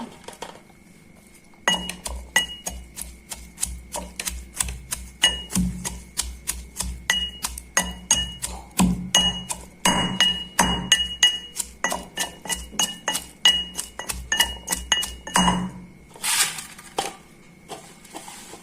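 Garlic crushed for a Bengali shol fish bharta gives a long run of sharp, rhythmic strikes with a clinking edge, about three per second and close up, after a brief quiet start and ending with a few scrapes.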